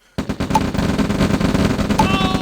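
Rapid bursts of rifle gunfire in the real-time strategy game OpenRA Red Alert, a dense, steady rattle of shots continuing throughout, with a faint voice in the background.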